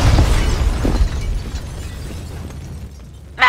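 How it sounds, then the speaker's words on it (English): A building packed with explosives blows up in the video game Max Payne 2, a loud rumbling blast that fills the scene and slowly settles, with a sharp burst of debris near the end. "The building's blowing up."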